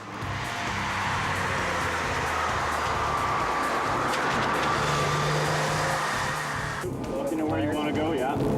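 A car circulates at speed on the Mission Raceway track during driver training, its engine a constant loud broadband roar that shifts tone near the end, with people talking over it throughout.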